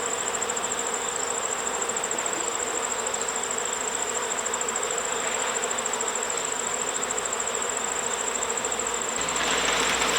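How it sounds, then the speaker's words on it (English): Honey bees fan at a hive entrance, many of them returning with pollen. A dense, steady insect drone fills the scene at close range, constant and without pauses. "I see a lot of bees at the front fanning, and a lot of them are carrying pollen."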